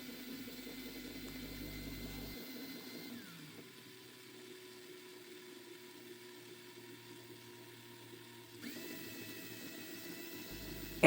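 A small DC motor driven by an ESP32 runs in reverse, giving a faint, steady mechanical whir with a low hum that shifts briefly in tone partway through, with no talking.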